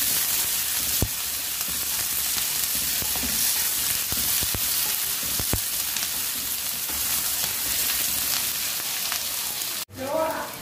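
Sliced onions sautéing in a kadai pan for kadai paneer: a loud, steady hiss of frying with a few clinks of stirring, close up, which cuts off abruptly near the end.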